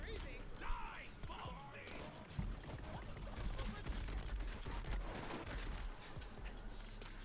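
Rapid gunfire while shooting enemies in the Borderlands game, a dense stream of loud overlapping shots and bursts that barely lets up, with a voice talking over the clatter.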